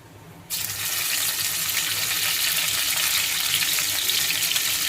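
Cumin, curry leaves and asafoetida hit hot oil in a kadai for tempering, and a loud, steady hiss starts abruptly after a short quiet moment. It holds close and continuous to the end, with no speech over it.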